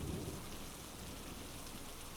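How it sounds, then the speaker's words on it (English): Steady rain falls with a dense, even hiss and a low rumble of thunder, strongest at the very start, then a constant wash of rain alone with no voices. "The sound of the rain"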